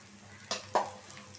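Garlic, onion and green chillies frying in oil in a pan, with two brief stirring scrapes over a low steady sizzle, close and fairly quiet.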